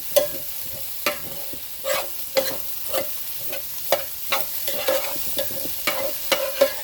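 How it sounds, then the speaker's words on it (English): Vegan fried rice stirred in an oiled pan: rhythmic scraping strokes of a utensil recur about once a second over a soft, steady sizzle, close and clear with no voices. "we're going to mix mix this all together here"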